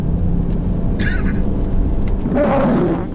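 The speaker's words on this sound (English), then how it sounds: "It's raining here, and that's the windshield wipers." Car windshield wipers sweeping across glass during rain, two short squeaky passes over a steady, loud wash of rain and road noise inside the car.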